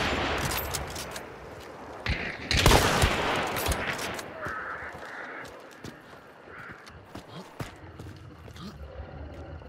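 Rifle fire with Spitzer ammo in the shooter game Hunt: Showdown: a loud, close crack with a rolling echo, followed by scattered fainter shots and clicks while players talk over it.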